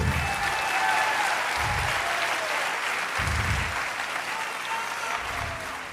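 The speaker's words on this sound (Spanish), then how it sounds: "Vamos, denle un aplauso a Dios fuerte" Loud, steady applause from a church congregation at a Spanish-language sermon, a dense wash of many hands clapping continuously with low thumps recurring throughout.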